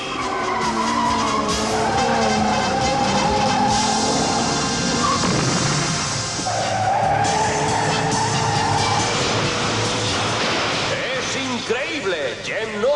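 Cartoon race cars at the Indy 500 skid and squeal their tires through a dangerous passing move, long loud screeching sweeps with a crash-like burst near the end, under an excited commentator's voice.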